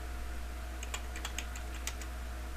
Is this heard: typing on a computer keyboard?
yes